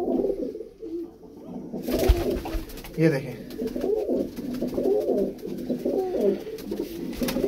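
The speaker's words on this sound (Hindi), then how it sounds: "ये देखें ये सब कबूतर सेल के लिए अवेलेबल है।" Pigeons coo steadily from a group of border pigeons offered for sale in Jammu, with someone talking over the birds throughout.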